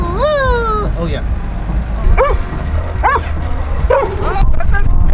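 A dog yips and barks close by in several short, whiny bursts spaced a second or so apart, with people talking over it.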